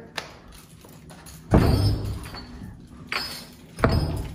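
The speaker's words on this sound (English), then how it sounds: "I'm gonna open the door up, Miss Nellie." Door being opened, with a few heavy thumps and a sliding rattle as it moves, close by, separated by quiet pauses.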